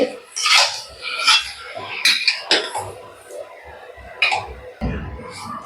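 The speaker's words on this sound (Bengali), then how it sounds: "আবারও ভালো করে নাড়তে থাকবো সমস্ত মশলাটা মাংসর সাথে একদম ভালো করে মিশিয়ে দিতে হবে" A spoon scrapes and clanks against a pot while mutton is stirred with spices for an aloo mutton curry, giving irregular metallic knocks and scrapes at close range, with some speech underneath.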